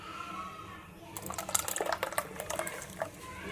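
A ground almond mixture is poured into one litre of hot milk for kesar badam firni, a short close liquid splash and trickle following a second of quiet kitchen background.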